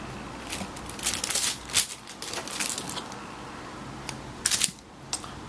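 A knife slices through rainbow glycerin soap bars, first halving them and then quartering them, giving soft, close crackly scraping strokes with sharper bright cuts near the end and no talking.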